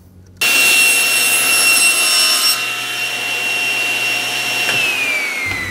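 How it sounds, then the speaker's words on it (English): A table saw rips through a wooden board, a sudden loud steady whine and cutting roar that starts abruptly, holds, then shifts down in pitch as the cut ends and the blade spins down. "we're gonna rip this board and see how far off we are"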